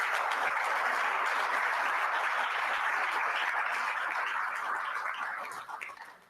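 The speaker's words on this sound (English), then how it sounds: "we should probably hold our applause till the end" A live audience claps for an award winner at an agricultural conference, with dense, steady applause at full strength that fades out toward the end.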